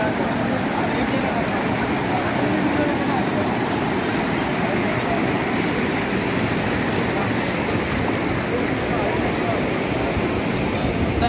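Heavy rain floodwater rushing near Bathula Cheruvu in Hayathnagar, a loud, steady, broadband roar of fast-moving water that continues without break.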